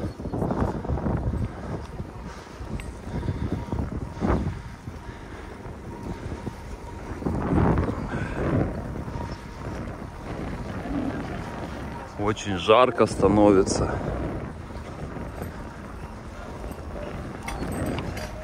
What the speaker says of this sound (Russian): Еду против ветра, небольшой бриз, легкий.